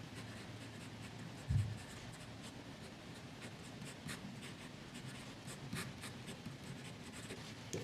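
A Waterman Laureate fountain pen with an extra fine nib, writing in Montblanc Royal Blue ink, makes soft, continuous scratchy strokes on paper, steady and close, with a brief bump partway through.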